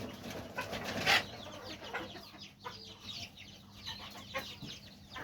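A hen clucks in short, uneven bursts close by while laying an egg, with one sharper squawk near the start and quieter murmuring clucks after.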